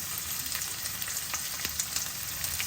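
Onions sizzling in hot oil in a dal tempering, a steady, crackling fry close by with faint stirring and no voices.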